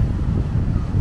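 Strong wind buffets the microphone at Puraran Beach in Catanduanes, a loud continuous low roar with surf mixed underneath, brief and unbroken.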